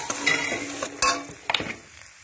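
Spices being fried and stirred together in a pan with chopped coriander leaves for a Mughlai paratha and potato curry: a close, scraping stir with a few sharp bursts of sizzle and clatter, no talk.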